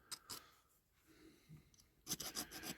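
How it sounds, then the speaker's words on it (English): A metal file rasps against a Dinky Toys diecast double-decker bus. Faint rubbing comes first, then a quick burst of close, scratchy strokes near the end. "You can either do it with a file"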